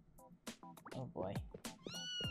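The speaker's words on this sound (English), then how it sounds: "I hear it! Where's the cat?" A cat meows repeatedly in the video game Blue Archive, a series of close, clear, high-pitched mews in quick succession with a brief caterwaul-like strain.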